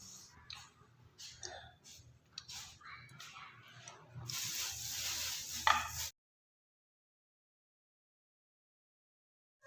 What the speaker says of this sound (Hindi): अब हम जो बकाया इसके बचे हुए हैं वो भी फ्राई कर लेते हैं।